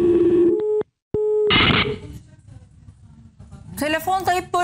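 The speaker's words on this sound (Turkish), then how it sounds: "Bu niye telefon hep kapanıyor?" A telephone line cuts out into a busy signal: a steady tone breaks off into a short silence, comes back, and then gives way to a person talking on the line.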